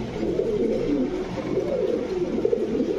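Pakistani pigeons at a pigeon farm coo in soft, overlapping rolling calls, a steady close chorus of several birds with no talking.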